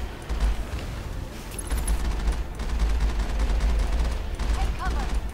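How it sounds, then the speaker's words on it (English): Heavy enemy gunfire in Mass Effect rattles continuously at the player, loud rapid automatic bursts with deep thumping impacts, layered under a speaking voice. "I barely even get out of the tunnel when someone's trying to shoot at me."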